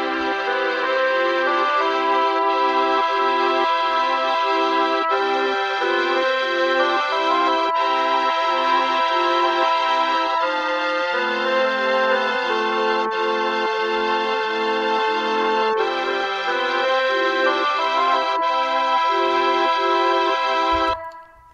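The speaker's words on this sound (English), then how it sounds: "Just the mellotron parts, and I soloed them, it would sound like this." Three Mellotrons play a song with only their parts soloed: sustained, organ-like chords and a melody line that hold steady for about twenty seconds before cutting off.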